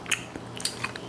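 Someone bites and chews Haitian fish eaten with pickles, giving a few soft, close crunchy bites with wet chewing between them and no talk.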